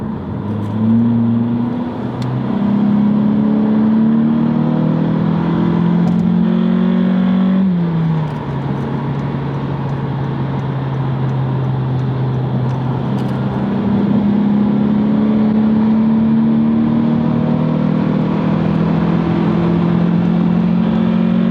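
A 2022 Honda Civic 2.0L with an Invidia exhaust accelerates hard in sport mode using paddle shifts, its loud engine note climbing in pitch, dropping at a shift near the middle, then climbing again, with no talking.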